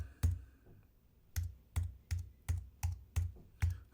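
A password being typed on a computer keyboard: one isolated key tap, then a pause, then seven crisp, closely spaced clicks in an even rhythm, heard close and alone.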